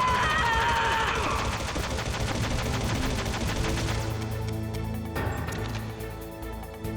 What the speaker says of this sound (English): I'm gonna shoot all these guys real quick